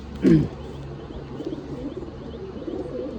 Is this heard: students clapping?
no